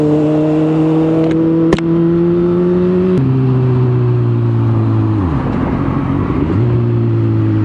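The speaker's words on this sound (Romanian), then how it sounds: "Bă, în halul ăsta n-a fost niciodată traficul." Heavy road traffic with cars driving, a loud, steady engine drone from inside a vehicle that holds its pitch, shifts down partway, dips briefly, then settles again, with no talking.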